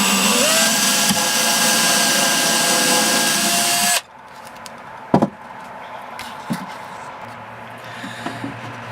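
Power drill driving screws into wood for a cargo trailer conversion, a loud steady motor whir that cuts off abruptly, followed by quieter clunks, taps and knocks of handling the workpiece.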